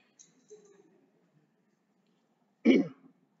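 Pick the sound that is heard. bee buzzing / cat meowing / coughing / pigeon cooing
coughing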